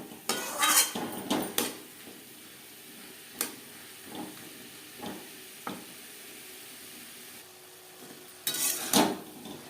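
Cauliflower and spices are stirred in a pan with a metal utensil, giving sharp scraping clinks in a few bursts and scattered taps over a faint sizzle, close by and without talk.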